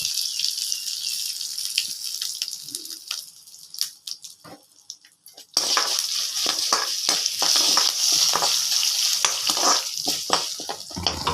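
Onion, curry leaves and broken dried red chilies being sautéed in a pan with tempered cumin and lentils. Quiet scattered stirring clicks give way to a louder, sustained sizzle after the midpoint, with no voices.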